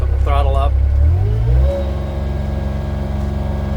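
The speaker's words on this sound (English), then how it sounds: "So I'm going to throttle up." A Bobcat L28 small articulated loader's engine rises in pitch as it throttles up, a steady loud droning hum that settles at a higher idle, with a brief voice near the start.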